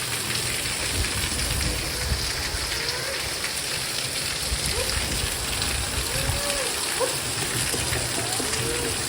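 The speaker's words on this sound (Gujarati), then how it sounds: "જોરદાર વરસાદ ચાલુ થયો" Heavy rain pours down in a steady, dense hiss, with drops drumming on surfaces throughout and no break in the downpour.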